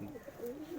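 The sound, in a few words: Kaldama pigeon cooing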